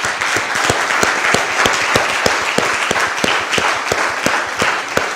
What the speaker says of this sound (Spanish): Denle un aplauso a Dios, por favor, por eso.